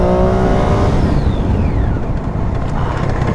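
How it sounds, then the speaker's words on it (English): A Triumph Daytona 675R sport motorcycle brakes hard with ABS, its loud engine note dropping steeply as it slows, then settling into a rough, noisy rumble close to the microphone. "You want to see a hard brake?"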